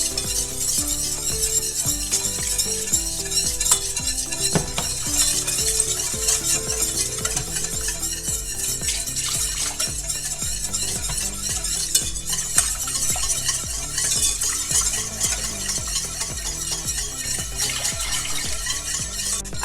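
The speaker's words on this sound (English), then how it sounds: "To the roux we're going to start gradually adding the milk. Keep whisking all the time." Milk is whisked into a flour and butter roux in a pan, for spinach and ricotta cannelloni. Continuous close scraping and clinking of the whisk against the pan sit over a soft, steady bubbling sizzle, with no talk.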